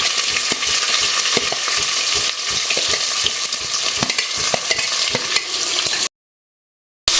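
Onion and green chili fry with fennel, cumin and dried red chili in a pan, a loud continuous sizzle with stirring scrapes and taps, then an abrupt cut to silence near the end.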